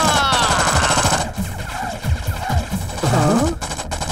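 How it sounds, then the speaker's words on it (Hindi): Rapid bursts of movie gunfire from a gun shot at a wall, loud and dense, with dubbed-action soundtrack music and scattered voices mixed underneath. "भाई दीवार पर गोली क्यों चला रहे हैं?"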